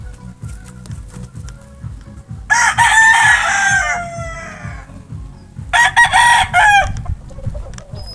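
Pet roosters crowing loudly twice in long drawn-out calls close by, with hens clucking in a steady low rhythm throughout.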